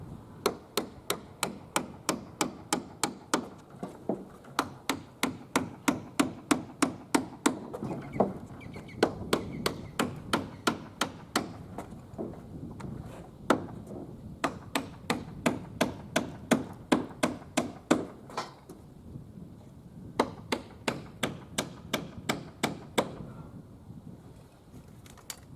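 Long runs of rapid hammer taps driving nails into plastic uPVC fascia on a roof, bursts of quick regular strikes with brief pauses between, close and steady, no speech.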